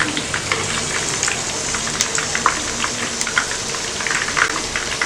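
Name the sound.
chicken lollipops from chicken wings frying in oil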